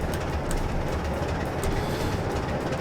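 A Class 156 diesel multiple unit runs in Train Simulator 2014 on the Glasgow Central to Motherwell route, giving a steady rumbling roll with faint rhythmic clicks, constant and fairly close, no voices.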